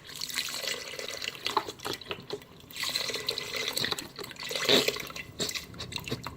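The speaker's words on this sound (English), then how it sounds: "I'm just going to go ahead and add 4 of the Trader Joe's vegetable broth" Low sodium Trader Joe's vegetable broth pours steadily into an Instant Pot, a close, continuous liquid splashing and gurgling that surges and eases in uneven waves.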